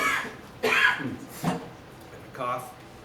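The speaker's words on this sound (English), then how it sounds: "Cough." A single short cough from someone close by, followed by a couple of quieter vocal sounds.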